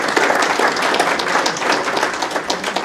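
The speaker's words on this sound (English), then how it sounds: "He deserves an applause." Dense, steady applause from a conference audience at an investment panel session, continuous clapping throughout with no voices standing out.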